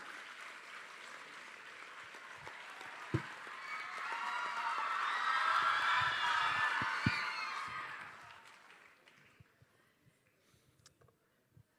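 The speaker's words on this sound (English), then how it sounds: "Let us give a huge round of applause to Ms." An audience at a felicitation event for badminton player P V Sindhu applauds. The clapping swells over several seconds to a broad crowd ovation with a few cheers, then fades away, heard from across a hall.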